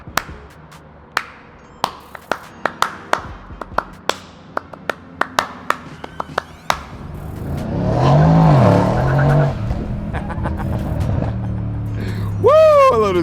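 A car engine idles, then revs up in a sustained, loud roar after a series of sharp knocks and taps. Someone exclaims near the end over the engine noise.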